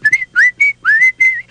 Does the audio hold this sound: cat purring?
no